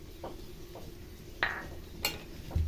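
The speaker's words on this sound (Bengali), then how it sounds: "ভালো করে লেড়ে নেবো।" A spoon scrapes and clinks against a pan, stirring ginger garlic paste for vegetarian khichuri, in a few quiet separate strokes over a faint background hiss.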